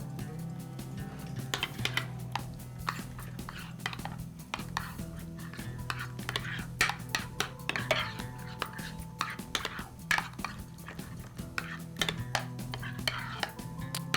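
Chili peppers frying in a home kitchen pan over medium flame, with a steady soft sizzle beneath repeated sharp clinks and scrapes of a utensil against the pan, fairly close, with little talk.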